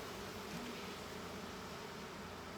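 Honey bees swarm and buzz around an opened hive during an inspection, a dense, steady droning hum from many insects close by, continuous and fairly loud with no talking.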